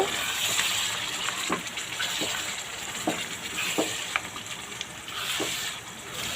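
Beef head meat being stirred with spices in a pan: a continuous moist sizzle carries a series of soft, evenly spaced scrapes and clacks of the spoon against the pan.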